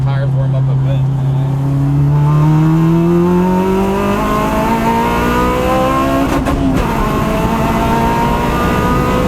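Supercharged car on sticky tires accelerating in third gear, its engine note rising steadily and loudly through the revs with a faint whine, heard close over a continuous roar, with a driver talking over it.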